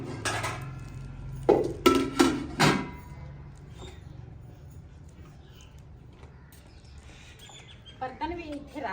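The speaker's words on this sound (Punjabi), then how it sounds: "ਬਰਤਨ ਵੀ ਇੱਥੇ ਰੱਖਦੀ ਆ ਧੁੱਪ ਤੇ ਨਾ ਸੁੱਕ ਜਾਵੇ" Utensils set down outdoors in the sun to dry clatter in a few sharp metallic knocks and clinks near the start, then quieter scattered handling follows while someone talks.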